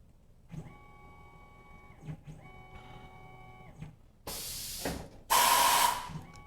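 A Tormach PCNC 1100 CNC mill drills holes in a small aluminum bracket: short whirring spindle and servo tones come in repeated bursts, then two loud hissing blasts, likely coolant or air spray, close to the microphone.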